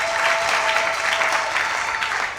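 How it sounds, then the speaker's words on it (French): Congregation in a church clapping steadily, a loud, continuous wash of applause that holds evenly throughout. "Acclamez pour la gloire de notre Dieu"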